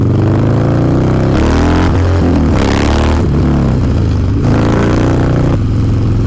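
A 2016 Harley-Davidson Dyna Low Rider S motorcycle roars loudly and up close through tight riding maneuvers, its engine rising and falling in repeated revving surges with a rumbling exhaust throughout.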